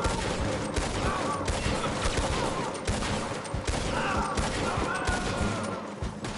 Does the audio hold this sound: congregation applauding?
no